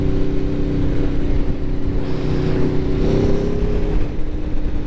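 An Aprilia 1100 Factory motorcycle with a full titanium Akrapovic exhaust running on the freeway, its engine holding a steady droning roar with a couple of swells as the throttle opens, wind noise underneath.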